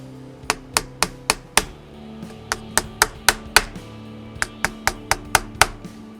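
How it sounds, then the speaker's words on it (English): Sharp metallic taps of a hole punch striking a metal guitar plate ring out in quick bursts of about five, pausing between groups, loud and close with a brief ringing decay. "We will then use a hole punch to make an indent into the plate"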